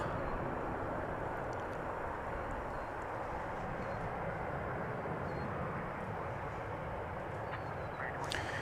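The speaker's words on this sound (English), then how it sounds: "Flight arriving was 2257 from Oklahoma City, an Airbus A319, American Airlines." An American Airlines Airbus A319 arriving at DFW Airport at night sounds as a dense, steady jet roar, loud and unbroken throughout, with no talking.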